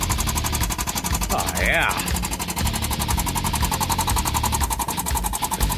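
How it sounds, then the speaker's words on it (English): A hydraulic bead breaker works on a tractor tire rim, its pump and engine hammering in a steady, fast rhythmic pulse up close, with someone briefly speaking over it. "it's a good time to use the old hydraulic bead breaker right here"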